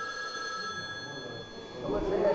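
A telephone rings as a stage effect during an amateur theatre play, a steady ringing tone over a continuous room murmur that swells louder toward the end.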